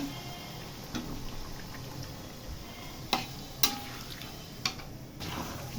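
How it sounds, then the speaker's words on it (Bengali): Olives being stirred into hot spiced oil with chili flakes and five-spice seeds for a pickle, a soft steady sizzle with occasional sharp clicks of a spoon against the pan, no voices. "জলপাইটা সম্পূর্ণ দিয়ে নাড়াচাড়া করে নেব"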